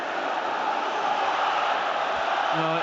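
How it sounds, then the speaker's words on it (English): A football stadium crowd roars after a penalty save during a Rangers versus Athletic Bilbao Europa League quarter-final first leg, a loud, sustained, unbroken wall of massed voices holding steady throughout. "What a moment in this game, and listen to this crowd now"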